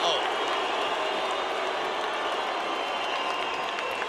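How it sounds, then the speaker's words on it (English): Filipino boxing fans in an arena boo Antonio Barrera as he tours the ring before his fight with Manny Pacquiao, a dense, continuous wall of crowd noise that stays loud throughout. "Filipino fans booing Barrera"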